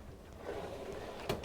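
A large, deep drawer beneath a bunk area in a 2024 Thor Pasadena 38DA motorcoach slides open or shut, a soft, quiet rolling rumble ending in a small knock.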